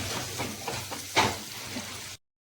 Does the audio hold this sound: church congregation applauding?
no